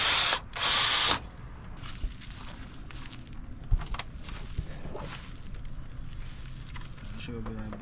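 A power drill whirs in two short loud bursts while installing quick release bumper clips on a Lexus IS300, followed by quieter clanks, shuffling and background noise with occasional knocks.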